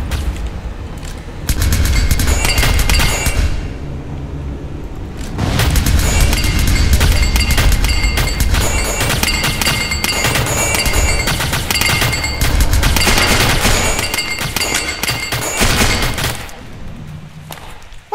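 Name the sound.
MP7 machine gun firing in a video game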